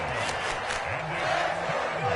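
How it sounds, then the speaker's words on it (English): A stadium crowd roars and swells during a football video game played on PS4, a dense steady wash of cheering with a voice partly audible underneath. "A big play here as the crowd noise rises."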